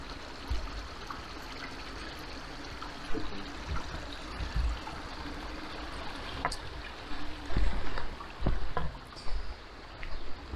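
Water from the mountain spring at Kraljičin zdenac on Medvednica trickles and flows steadily at low level, with a few soft knocks and splashes rising over the continuous outdoor wash.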